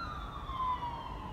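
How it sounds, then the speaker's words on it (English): An ambulance siren passes outside, a faint, steady wailing tone that slowly falls in pitch over a low background rumble. "Ambulance."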